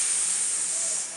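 Voices imitate hissing steam with a steady, loud, breathy hiss that holds for about a second and fades slightly at the end.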